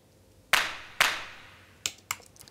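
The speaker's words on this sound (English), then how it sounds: "And there are extra hand claps here," Four reverberant hand claps from a World Asian kit sample, two strong hits then two lighter ones, crisp and isolated with a spacious reverb tail in a sparse beat context.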